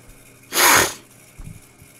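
A single loud human sneeze bursts out close by, followed by a couple of faint sniffs and breaths.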